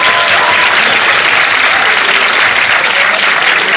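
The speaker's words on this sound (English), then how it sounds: "now a huge round of applause for you that you are here." Dense, sustained applause from a conference audience on an AI and economic growth event in the Americas, loud and close, continuous claps filling the short stretch with no speech.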